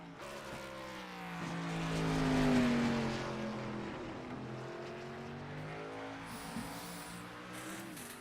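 Race cars lapping the Charlotte Roval road course during a HOSS playoff race, a continuous engine drone that swells to a peak as cars pass close by and then holds steady with layered engine tones.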